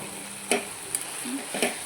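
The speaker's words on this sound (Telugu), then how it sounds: "మధ్య మధ్యలో కలుపుకుంటూ ఉంటే ఇలా చక్కగా మగ్గిపోతుంది" Brinjal curry with chickpeas being stirred in hot oil: a steady low sizzle broken by three or four short spoon scrapes against the pan, close and fairly quiet, with no voices.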